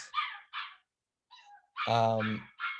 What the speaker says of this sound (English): My Pomeranian's howling